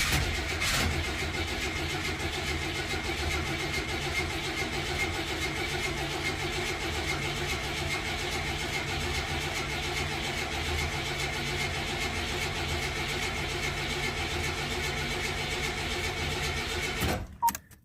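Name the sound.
1981 Buick Regal engine cranking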